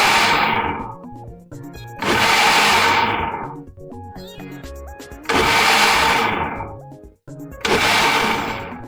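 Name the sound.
blender pulsing leaves for ewedu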